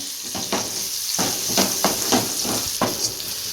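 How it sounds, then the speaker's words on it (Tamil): Onions, green chillies and curry leaves sautéing in a pan for a dried-fish fry, a steady close sizzle broken by repeated scraping stirs, with no voices. "இப்போ இதே நல்லா வதக்கி விட்டுப்போம்"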